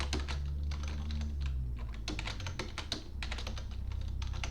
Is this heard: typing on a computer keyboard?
yes